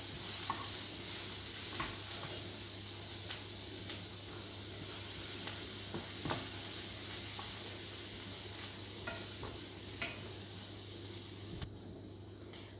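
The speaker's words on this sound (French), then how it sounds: "j'ai mis un petit oignon que j'ai coupé grossièrement et je vais faire cuire jusqu'à ce qu'il devienne translucide" A roughly chopped onion frying in a pan, giving a steady close sizzle and hiss throughout with occasional stirring scrapes, easing slightly at the end.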